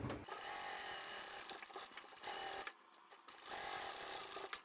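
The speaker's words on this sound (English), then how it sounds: "sew the ends together so that they butt up really nicely. And then we can come straight up the side again." A sewing machine stitches the ends of a tote bag together, running in a steady close buzz, pausing briefly near the end, then resuming.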